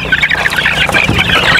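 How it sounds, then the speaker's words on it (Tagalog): A rooster clucks continuously and loudly up close, a rapid run of throaty clucks with a steady rhythm on a backyard breeding farm. "Tandang din po ito."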